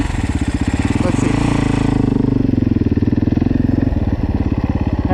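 A 450cc four-stroke dirt bike engine runs loud and close, with a steady pulsing exhaust throb that rises slightly in the middle of the clip before settling back.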